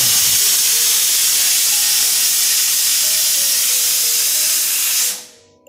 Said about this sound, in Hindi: कुकर की सीटी ने इंटरप्ट कर ही दिया